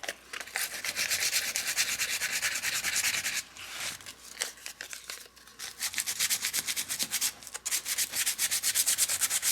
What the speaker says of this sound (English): And I'm just going over this with a fine grit sandpaper. This is a 150 fine grit.